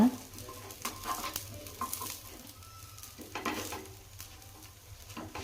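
Grain paddu batter sizzles steadily in a paddu pan while the dumplings are flipped, with scraping and stirring clicks breaking through the crackle; no voices.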